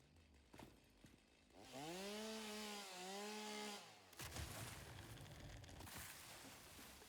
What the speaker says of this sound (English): There's chainsaw.